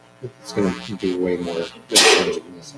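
A sharp, loud sneeze bursts out partway through a planning commission meeting, breaking up ongoing conversation between people talking nearby.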